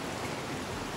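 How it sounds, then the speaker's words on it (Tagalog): Steady, dense patter of heavy rain falling during a flash flood, a continuous hiss with no pauses and no voices. "umuulan pa mga partner."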